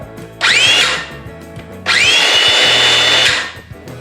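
A Makita DSS610 18V LXT cordless circular saw whirs up twice with no cutting: a short high-pitched burst, then a longer steady whine that winds down.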